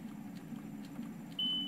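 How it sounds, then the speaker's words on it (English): A home dialysis machine that is ready to run gives a single high, steady electronic beep that starts near the end and holds, over a low hum in a quiet room. "it's been 15 minutes and the machine's beeping at us."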